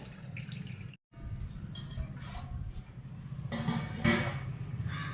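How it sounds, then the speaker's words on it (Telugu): Water splashes and trickles steadily into a cooking pot for boiling sorghum dumplings, fairly quiet and close, with a brief cutoff near the start and a louder pour toward the end. "జొన్న కుడుములు ఉడకటానికి ఎసరు వాసుకుంటాను దీంతో పేలన్నర నీళ్ళు వాసుకోవాలి"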